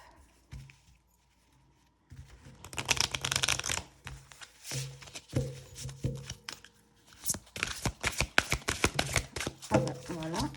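Oracle cards being shuffled and drawn by hand, a soft flurry of riffling and sliding card noise with light taps and flicks, close and moderately quiet, with faint voice in the background.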